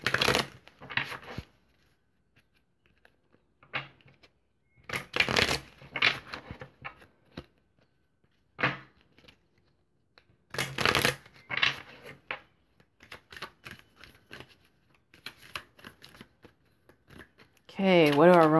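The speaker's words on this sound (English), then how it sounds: "We're going to shuffle them real quick." Cards are shuffled in several quick riffling bursts separated by quiet gaps, close and crisp, with a short burst of speech at the very end.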